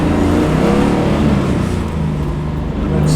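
A 1976 Holden Torana SLR 5000 muscle car's V8 engine revs loud and close, a thick steady roar with a brief dip near the end before building again, and no talk.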